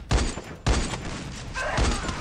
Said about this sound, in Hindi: कहाँ पे मार रहा हूँ मैं, आसमान में गोलियां।